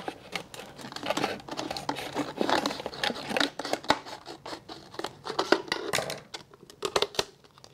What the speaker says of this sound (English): lightly pinch up where your line is and get that cut started